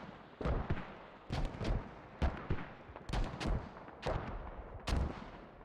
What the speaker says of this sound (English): A lot of mortars coming out from Blak1st.